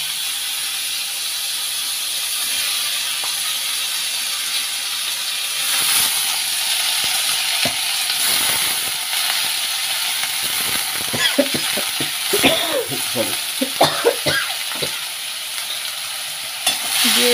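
Dried red chilies and a bay leaf frying in oil in a pan, a continuous loud hiss with scattered crackles and spoon scrapes that grow busier toward the end.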